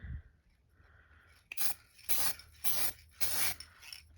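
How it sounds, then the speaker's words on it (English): An aerosol rattle can sprays paint in four short hissing bursts, each about half a second long, heard close after a quiet start. "Now for the rattle can."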